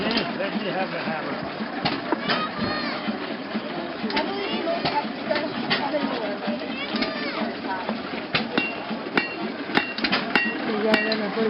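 A hammer pounds hot metal at an antique tractor show, with repeated sharp strikes standing out over a busy background of crowd chatter and machinery noise, while people talk nearby.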